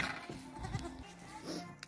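Young goat kids bleat in their newly built enclosure, a few short wavering calls close by with some rustling around them.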